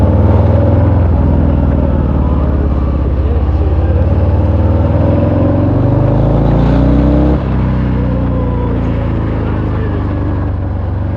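Harley-Davidson Fat Bob 114 motorcycle with a 114 cubic inch (about 1.8 litre) engine, heard while riding: a loud, steady low engine drone that shifts pitch partway through as the bike changes speed, with no talk over it.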